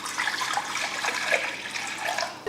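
Water splashes and streams steadily into a kadai pan for a couple of seconds, a close, continuous pouring hiss with no voices.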